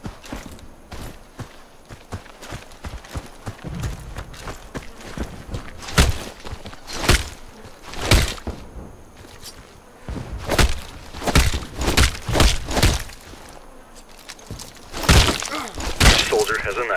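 Knife melee strikes on targets in the shooter game Warface, landing as several separate thumping hits spread through a tutorial sequence, fairly loud, with ambient game noise between them.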